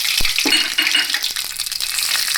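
Mustard seeds, cumin and curry leaves hit hot oil for a Gujarati galka-tomato shaak, giving a steady, close crackling sizzle with scattered sharp pops and no talking.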